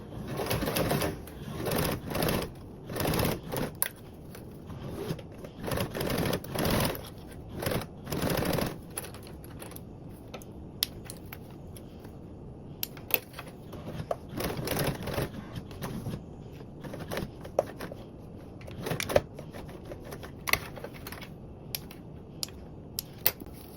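A sewing machine stitches fabric for a quilt-style pattern, running in several short bursts with brief pauses and handling noises between runs, moderately close and free of talk.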